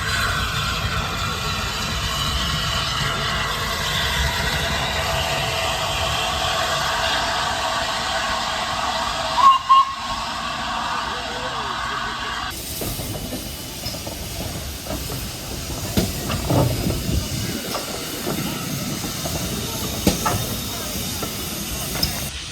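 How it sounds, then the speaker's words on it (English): The Flying Scotsman steam locomotive passes at Didcot Railway Centre with a sustained hiss of steam and rolling train noise, then a sharper mix of clanks and bursts, with some background voices. "Flying Scotsman's just passing by"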